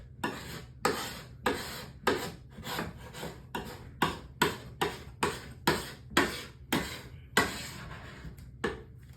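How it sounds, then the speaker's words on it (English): Scraper pushing chemically stripped, gummy clearcoat off a surface, a series of about fifteen rhythmic close scraping strokes, each a sharp rasping swipe separated by brief pauses. "So let's go ahead and scrape"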